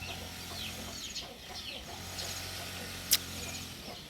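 Hens and chicks in a nursery coop give soft, scattered clucks and peeps at close range, with one brief sharp call standing out near the end.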